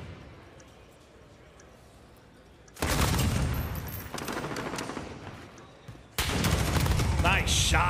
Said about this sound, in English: Shots there from Illy